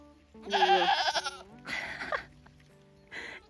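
Three loud bleats from goats nearby, the first long and wavering, the second shorter, and a brief final cry after a pause.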